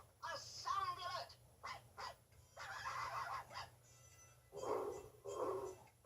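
A dog howls and barks at twilight in drawn-out, wavering bursts with gaps between them, moderately loud and close.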